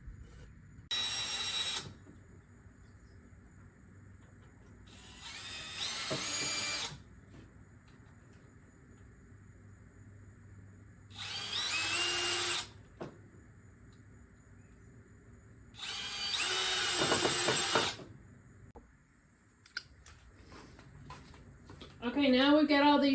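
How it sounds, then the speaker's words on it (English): A power drill pre-drills holes in wooden boards for a dog house, four loud separate bursts of whirring a few seconds each, separated by quieter handling pauses. "Okay, now we've got all these pre-drilled."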